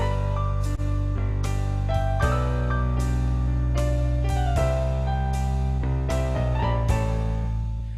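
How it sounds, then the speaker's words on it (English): An electronic keyboard plays a Southern 3/4 waltz accompaniment style, giving a steady, loud, sustained backing with regular chord strikes and a bass line in waltz time, played alone without voices. "You're going to get the style called Southern 3/4, and that's a really, really good style."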